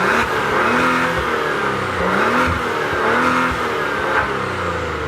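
A Maserati GranTurismo in sport mode revs hard, its loud engine note climbing and falling in repeated surges with a sharp pop near the end, heard up close from inside the car with no talking.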